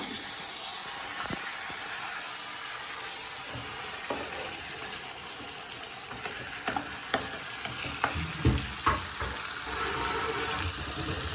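A pot of chicken stew, with fried chicken in sauce and a little water added, is stirred on the stove: a steady bubbling simmer with soft scraping and clicking from the spoon, growing busier toward the end.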